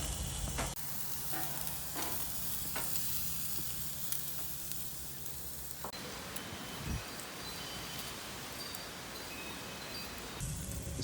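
Steak burger patty sizzling on a grill, a steady close hiss and crackle that runs throughout with a few soft knocks.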